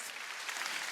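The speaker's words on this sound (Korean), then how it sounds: "박수." A congregation claps during a Sunday worship service at a Korean church. The burst is brief and fairly faint, with an even wash of many hands and no voice on top.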